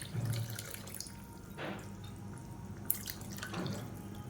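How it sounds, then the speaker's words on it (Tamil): Water poured into a pressure cooker during cooking in a home kitchen, a faint splashing trickle with a couple of short pours and drips against a quiet background. "இப்போ குக்கரை அலசிட்டு கொஞ்சமாக தண்ணி சேர்த்துக்கலாம்"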